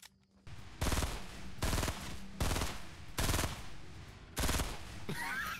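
Assault rifle fire in Fortnite: five loud, close bursts of rapid automatic shots in a steady rhythm, each about half a second long, separated by brief pauses, with a final burst trailing off into other game noise.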